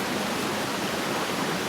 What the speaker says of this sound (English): We're going to try a flowing water source that is, again, supposedly contaminated, and we're going to drink from it.